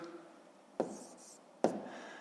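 A pen or chalk writes numbers by hand during a fifth-grade maths subtraction, making two short, sharp scratching strokes close by against a quiet background.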